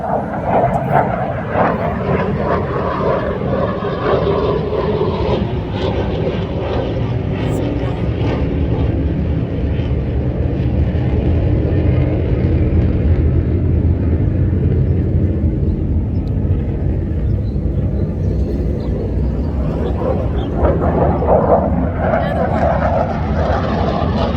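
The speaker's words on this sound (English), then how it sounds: "two super loud aircraft going through" A loud, steady roar of two aircraft passes overhead in Hualien, Taiwan, a broad rumbling drone that swells slightly toward the end and lasts throughout.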